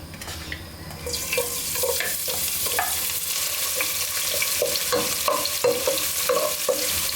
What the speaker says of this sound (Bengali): মরিচ গুঁড়ো হলুদ গুঁড়ো আদা বাটা রসুন বাটা ধনিয়া গুঁড়ো জিরা গুঁড়ো পেঁয়াজ দিয়ে দিচ্ছি